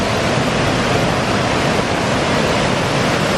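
River water pours over an old stone weir near a disused forge and corn mill, a loud, constant broadband rush with no breaks, close by and filling the whole clip without any voices.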